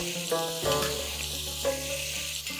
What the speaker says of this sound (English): we are going to sear this meat for at least 3 to 4 minutes on a high flame